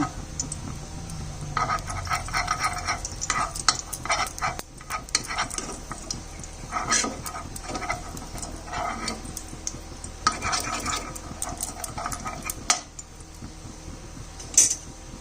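Refined oil and ghee sizzle in a pan, with repeated metal utensil scrapes and clatters over a soft frying hiss.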